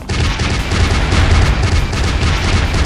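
Rapid gunfire in the Killer Bean Unleashed video game, a continuous loud burst of repeated shots with a thumping low end throughout, no speech heard.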